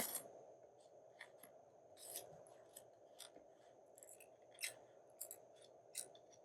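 Quiet snips of scissors cutting through paper come in an irregular series of crisp, close clicks over faint background hum.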